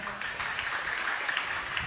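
A congregation claps loudly in praise of the Lord during a JMCIM preaching service, a brief, dense burst of many hands together.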